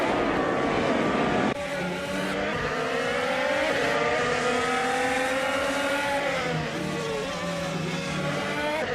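Honda and Chevrolet IndyCar race cars roar steadily around the track, a loud, continuous engine drone with shifting pitch as cars pass and accelerate, dense and unbroken throughout.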